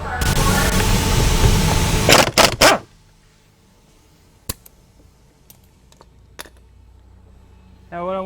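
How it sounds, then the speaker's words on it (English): Loud, dense impact wrench bursts rattle close by for about two seconds as the steering wheel center bolt on a 2005-2010 Dodge Charger, Magnum or Chrysler 300 is backed off, then stop abruptly, leaving a few scattered clicks and a brief noise at the end. "I'm going to be using the impact to back it off."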